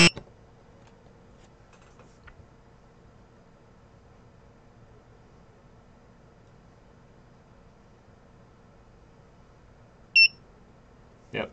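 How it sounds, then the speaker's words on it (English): A single short, high electronic beep from an HW-512 buzzer module driven by an Arduino sounds near the end over a faint, steady background hum, with a soft click at the start. "let's run that sketch. And it should just beep at us once in a great while."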